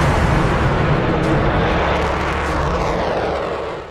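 An Avro Vulcan bomber roars overhead, a loud, broad, continuous jet rumble filling the air and fading slightly toward the end, with no voices.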